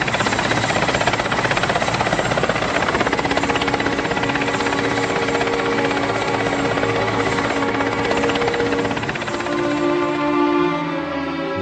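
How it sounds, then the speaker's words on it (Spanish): A helicopter roars continuously and loudly overhead, its dense rotor and engine noise filling the whole stretch without pause, with no voices heard. "Cuando el helicóptero sonó,"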